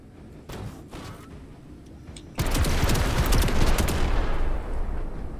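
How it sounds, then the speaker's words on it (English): Rapid burst of laser autocannon fire in the tactical game Menace, a loud sustained volley that erupts abruptly after quieter background ambience and continues to the end. "So let's use the laser autocannon."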